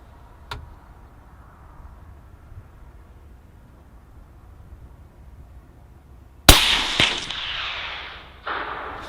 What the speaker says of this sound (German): Ein guter Schuss und das Stück blieb gleich am Anschuss liegen.